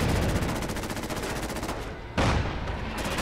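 Artillery strike in Fallout 4, with dense booming blasts and rapid gunfire-like explosions rolling continuously, a brief dip near the middle before another loud impact hits.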